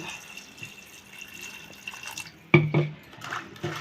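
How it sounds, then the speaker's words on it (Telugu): Water splashing and pouring into a metal pressure cooker in short bursts, following a quieter stretch of kitchen clatter. "ఇట్లా మునిగేటట్టు వాటర్ పోసుకోవాలి."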